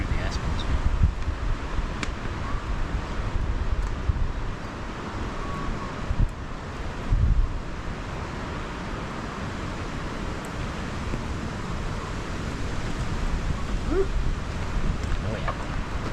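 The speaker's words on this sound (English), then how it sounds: "I don't know if you can hear that wind on the camera there" Wind blows steadily through a stand of aspen trees, a broad continuous rushing with gusty swells and some buffeting at the microphone, and a person speaks briefly over it.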